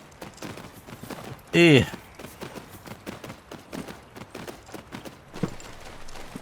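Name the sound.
horse hooves in a video game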